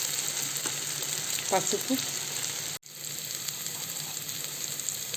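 Curry leaves and garam masala crackle and sizzle steadily in hot oil for a fresh black-eyed pea kurma, loud and close, with a voice speaking briefly over it and a short break midway.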